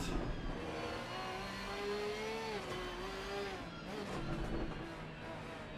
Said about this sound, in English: That Porsche sounds awesome.